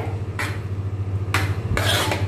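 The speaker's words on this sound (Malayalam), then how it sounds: "നന്നായി ഇളക്കി കൊടുക്കട്ടെ" A spoon scrapes through thick arrowroot (koova) pudding with coconut in a pan, giving three rasping strokes close by over a low steady hum, with no voices.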